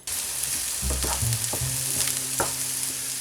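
Minced onions for a pasta sauce hit a hot pan and start frying, a close sizzle with several sharp spatula scrapes and knocks as they are stirred.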